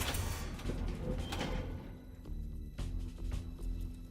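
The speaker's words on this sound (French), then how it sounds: "Ouverture porte 14." An automatic door, door 14, opens in the 2009 film Banlieue 13 Ultimatum with a dense mechanical whir and hiss broken by a few heavy clunks, loud and close throughout.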